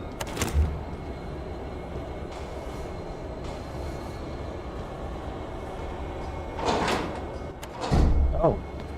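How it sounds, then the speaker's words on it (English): A door opening in the horror video game Tormented Souls, heavy rumbling and scraping mechanism sounds swelling near the end over a low droning ambience, with a voice talking briefly. "I did not think that was going to be a door."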